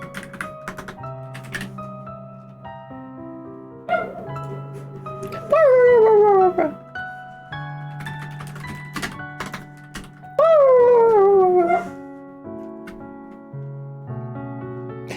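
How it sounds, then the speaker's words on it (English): A dog sound effect plays on a game development stream, twice giving a loud whining, falling yelp over busy clicking, typing-like taps and musical notes. "What the dog doing?"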